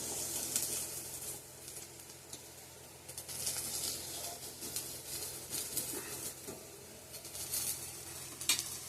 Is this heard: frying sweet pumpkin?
yes